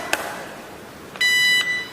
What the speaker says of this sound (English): One beep is GSM signal received.